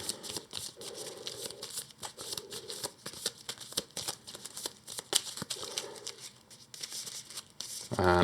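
A deck of game cards for the Earthborne Rangers board game is shuffled by hand, close and crisp, with repeated riffling bursts and brief pauses between passes.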